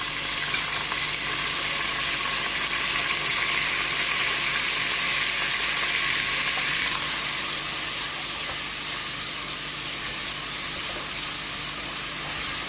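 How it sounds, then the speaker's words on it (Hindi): Garlic, ginger, tomato, onion and green chillies frying together in oil in a pressure cooker, a loud, dense, continuous sizzle and hiss that intensifies partway through. "कुकर में हमने ऑयल डाला है। अब हमने लहसुन, अदरक, टमाटर, प्याज, सब्ज़ मिर्ची इन सबको इकट्ठे डाल देना है।"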